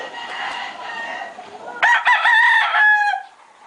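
A fighting rooster with no tail crows once, loud and close, after a stretch of softer clucking and background murmur.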